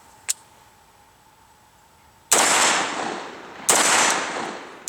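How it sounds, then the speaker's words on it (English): Sharp, loud rifle shots cracking at a range, one faint early pop followed by two big blasts about a second apart, each ringing out with a long echoing tail, with no talking. "we'll get back to keeping on putting those rounds down range"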